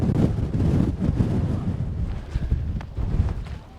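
Strong gusting wind buffets the microphone just off the summit of Barf in the Lake District, with low, rumbling roars that swell and ease, no voices present.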